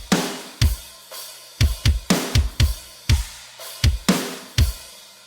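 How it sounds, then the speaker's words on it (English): Layered metalcore drum samples, combining a punchy kick, a dry snare attack and a room sample, hit in a tight groove of sharp, loud, close strikes with booming low thumps, no voices over them. "Together the drums sound like this."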